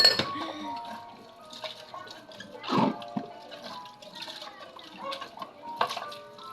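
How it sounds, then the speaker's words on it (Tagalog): Drinking glass being washed under running water at a sink, with trickling and splashing water, clinks of the glass and occasional louder gushes, close and continuous. "Yan, hugas ng baso."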